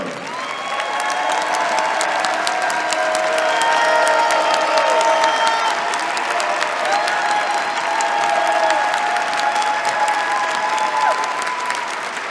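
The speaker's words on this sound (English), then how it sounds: "give her a rousing round of applause" A large standing audience at a celebration applauds their International President in a steady, loud, sustained roar of clapping with cheering mixed in, holding its level throughout without a break.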